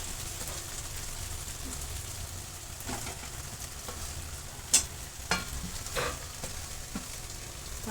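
Stuffed bitter gourds fry in hot masala oil with a steady low sizzle and crackle, and a few sharper scrapes and pops from stirring, all fairly quiet and with no talking.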